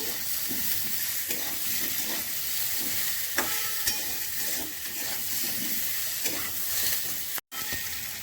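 Fried pointed gourd stirred in a pan with grated ginger, coriander, cumin and chili powder: a steady close sizzle with repeated spoon-scraping strokes and a brief gap near the end, no voices.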